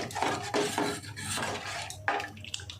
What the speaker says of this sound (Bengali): হালকা গরম জলে গুলে নেব।